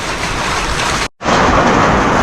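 Heavy rain pours in a loud, dense roar, briefly cut off for a split second before resuming just as hard.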